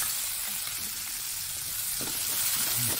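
Garlic and onion sautéing in a hot pan for a pork and apple curry, a loud, continuous close-up sizzle with a few stirring scrapes near the end.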